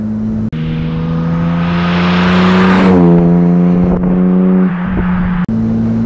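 A 1959 Jaguar SS 100 recreation with a 190 hp engine hums steadily while driving, its engine note rising under acceleration, easing off, then settling back to a steady drone, heard close from inside the car with no talking.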